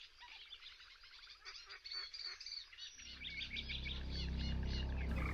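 Wild birds at the mouth of the Ebro delta call in quick, honking and chirping bursts. Partway through, a low, steady rushing noise rises beneath them and builds to the end.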